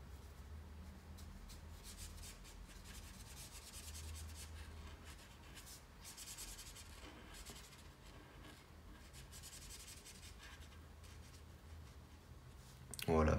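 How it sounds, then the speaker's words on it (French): Ultra-fine red graphite pencil strokes rub and scratch across paper while coloring a drawing of a chicken, soft repetitive scribbling close up at low volume. "je commence avec la couleur rouge des graphites, donc c'est les graphites ultra fins"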